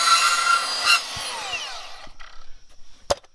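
A bandsaw cuts through metal pipe while bending offsets, a steady whining saw tone with a ringing scrape that fades out, followed by a few sharp knocks and clanks of the pipe being handled.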